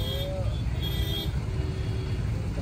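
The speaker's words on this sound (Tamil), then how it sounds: "கார் அதிகமாக வந்துக்கிட்டே இருக்குது" Cars arriving in heavy traffic near a parking area make a steady, close, low rumble throughout, with a few brief tonal whines above it.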